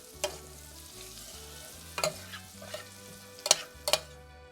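Onions sautéing in a pan for Mexican home cooking, a soft continuous sizzle broken by a few sharp scraping stirs, with a low steady hum underneath.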